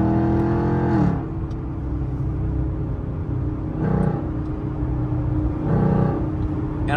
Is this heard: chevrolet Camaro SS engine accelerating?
yes